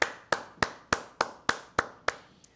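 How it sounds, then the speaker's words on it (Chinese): Eight slow, evenly spaced hand claps from a single person, crisp and fairly close, with a short pause between each and no talking. "给他拍拍手。"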